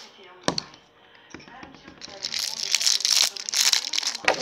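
Plastic packaging of an L.O.L. Surprise Series 2 toy being opened: scattered taps and rustles give way to sustained crinkling and tearing up close, with talking over it.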